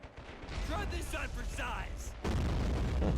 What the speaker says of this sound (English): We do have a AT grenade, so let's use that on the building.